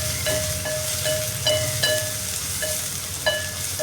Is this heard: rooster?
no